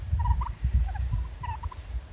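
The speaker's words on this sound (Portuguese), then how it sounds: "Meleagris ocellata, ou peru ocellato, é uma espécie de peru residente principalmente na península de Yucatán" An ocellated turkey (Meleagris ocellata) gives several rapid, fairly close gobbling bursts over a low background rumble.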